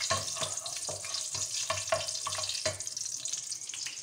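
Spices such as cinnamon stir-fried in a pan for mee hoon briyani, a steady close sizzle broken by repeated scraping strokes of a spoon against the pan.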